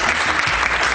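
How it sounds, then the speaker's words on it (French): Dense, steady applause from an audience at a formal French ceremony honouring a military unit, a continuous wash of clapping filling the whole moment without pause. "Je voudrais, mesdames, messieurs, que l'on applaudisse la présence de l'unité."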